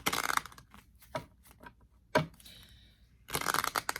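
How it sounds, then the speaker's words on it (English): A large, stiff tarot card deck being shuffled by hand, several quick riffling bursts and taps with pauses between, close and fairly quiet. "I'm just going to do a quick shuffle once here"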